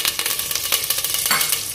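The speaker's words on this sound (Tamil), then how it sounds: "இப்போ இந்த குக்கரில் கடுகு வெதிச்சிருச்சு" Curry leaves and mustard seeds sizzling and crackling in hot oil inside a pressure cooker while making sambar, a steady close frying hiss with scattered pops, no voices.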